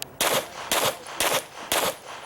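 Four evenly spaced, loud, sharp pistol shots ring out one after another at an outdoor IDPA shooting match stage at Charlotte Rifle & Pistol Club, each crack followed by a short decay.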